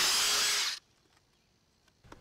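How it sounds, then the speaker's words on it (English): A DeWalt Atomic drill boring a 1/2-inch bit through a treated 4x4 gives a loud, steady high whine that cuts off abruptly after under a second, followed by faint handling sounds. "All right, let's use a 1/2-inch drill bit."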